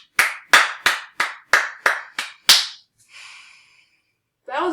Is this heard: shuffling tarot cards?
no